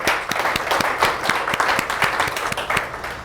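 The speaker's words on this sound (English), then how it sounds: "Another round of applause." Audience applause fills the hall at the Publishing Professionals Network's 50th Book Show in 2022, a steady, dense clapping from an in-person crowd that carries on evenly throughout.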